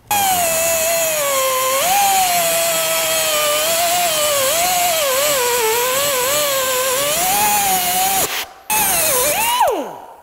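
Power saw blade cutting through a transmission cooler line clamped in a vise, a loud continuous whine that wavers in pitch with the load, then a brief stop, a restart and a falling spin-down.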